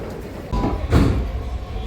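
Delhi Metro train at Rajiv Chowk station, heard from inside a carriage as a rumbling, low mechanical roar with a louder surge about halfway, close and continuous.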